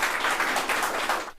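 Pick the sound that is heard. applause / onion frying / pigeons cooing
applause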